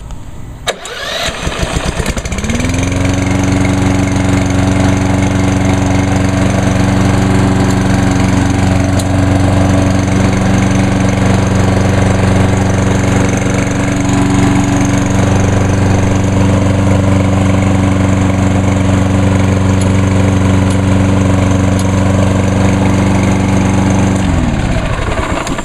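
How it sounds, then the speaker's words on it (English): A Kohler-powered lawn mower engine cranks and catches within about two seconds, then runs steadily and loudly near at a constant pitch for over twenty seconds before cutting off at the end. "Always count on this mower to start right up"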